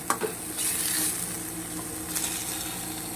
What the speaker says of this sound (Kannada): ಸ್ವಲ್ಪ ಮಿಕ್ಸ್ ಮಾಡ್ಕೋತಾ ಇರಿ ಸಿಮ್ಮಲ್ಲಿ ಇಟ್ಕೊಂಡೆ ಫ್ರೈ ಮಾಡಿ ಇದನ್ನು